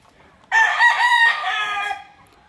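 A single loud crow from a gamecock rings out close by, a drawn-out cock-a-doodle-doo lasting about a second and a half before fading to quiet.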